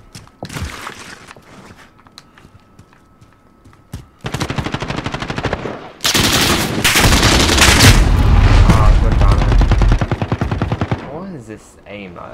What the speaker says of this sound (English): Okay, sniper rifle.